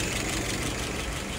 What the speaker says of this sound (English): Idle RPM is about 675.